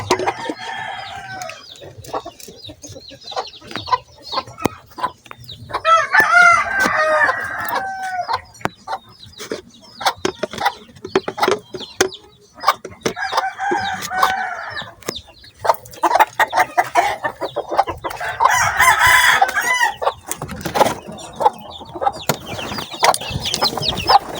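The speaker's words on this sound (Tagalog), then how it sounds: "So, ito na yung mga sisiw natin, mga kamanok." Three-day-old chicks mixed in among grown chickens on a farm, with loud clucking and repeated rooster crowing close by over a constant scatter of scratchy clicks and light knocks.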